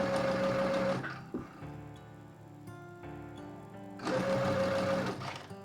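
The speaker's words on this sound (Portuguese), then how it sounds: "Fazemos então agora aqui a nossa costura até 1 cm do nosso limite." A sewing machine stitches a bias seam in two steady, whirring runs at the start and end, with a quieter mechanical pause between them.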